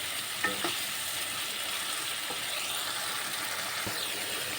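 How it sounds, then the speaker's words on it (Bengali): Tomatoes and spices sautéing in a pan for a potato, capsicum and paneer dish, a constant close sizzle with a few scraping stirs. "মশলাটা মধ্যে দিয়ে দেবো টমেটো একটু নাড়ব একটু কষিয়ে নেব"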